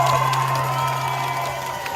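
Rally crowd in Melbourne cheering and shouting at a steady, continuous level, a dense wash of voices filling the space throughout.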